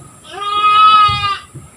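A goat gives one loud, clear bleat lasting about a second at a goat handover event on an island, with faint low background noise around it.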